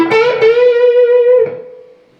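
Electric guitar lick played on the front pickup with reverb: a few bright plucked notes, one long sustained tone, then a final note that rings out and fades into the reverb tail.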